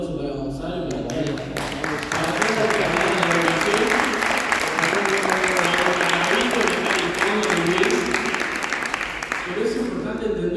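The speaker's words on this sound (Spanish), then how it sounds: "así que un aplauso para Gonzalo, para toda" An audience at a political speech on education breaks into sustained applause. Dense, steady clapping swells after a brief start and holds for several seconds, with voices audible under and around it.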